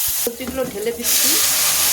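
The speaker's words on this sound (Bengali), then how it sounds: "সবজিগুলো ঢেলে দিচ্ছি।" Vegetables tipped into a hot pan burst into a loud, steady sizzle that fills the second half, after a brief moment of quieter noise with a faint voice underneath.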